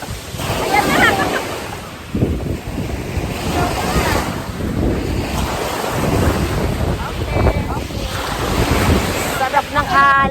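Ocean waves break and wash continuously on a white-sand beach at Puerto Galera, a loud rolling surf with wind buffeting the microphone and faint voices in the background.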